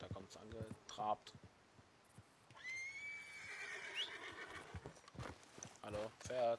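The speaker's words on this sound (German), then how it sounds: "Ich hör's schon, da kommt's angetrabt." A horse in the video game Red Dead Redemption 2 trots in with steady clip-clop hoofbeats, then gives a long, loud neigh in the middle, with a player talking over the start and end.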